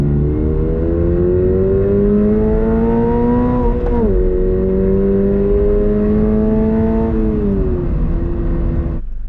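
A 2022 Subaru BRZ with its 2.4-litre engine revs freely toward 7,000 RPM, a loud close engine note climbing steadily, dipping briefly at a shift, then rising again before cutting off.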